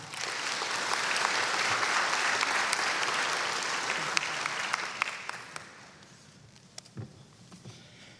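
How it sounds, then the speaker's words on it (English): Sustained applause from the crowd at a school graduation, full and steady at first, then thinning to scattered claps and tapering off. "Please join me in giving a round of applause to Daniel Leventhal"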